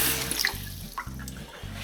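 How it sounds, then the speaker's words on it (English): Cold water runs and splashes into a bowl as pistachios are plunged in, a close, steady trickling and gurgling with a few brief clinks, heard alone. "get some cold water and plunge them into there"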